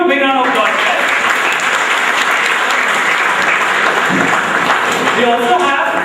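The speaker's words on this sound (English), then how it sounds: "Give him a big round of applause." Auditorium applause at a memorial quiz event for Brigadier S.K. Lari, director of the Army Institute of Technology: a loud, sustained wash of clapping with voices mixed in at the start and end.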